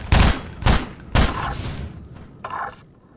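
Gunfire in the video game Half-Life 2: three loud, sharp shots about half a second apart, each with a booming tail, followed by a quieter burst of noise near the end.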